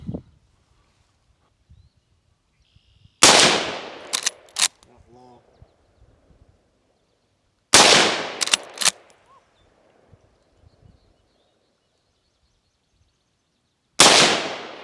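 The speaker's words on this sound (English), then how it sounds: "Blow up a few water jugs here at 50 yards. Do a little offhand shooting." Marlin 1894 lever-action rifle chambered in 218 Bee firing at water jugs 50 yards out: three sharp, loud reports spaced several seconds apart, each followed by a brief echo and clatter, with near silence between shots.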